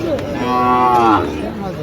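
Cattle at a rural cattle market (haat) in Chuadanga give a single long, loud, close moo, with a bustling crowd murmur underneath throughout.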